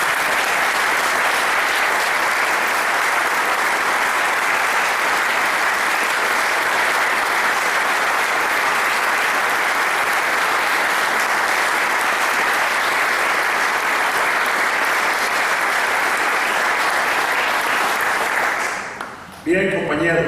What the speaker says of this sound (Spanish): pido un aplauso para él, un superviviente de la Guerra Civil Española, Domingo Varela.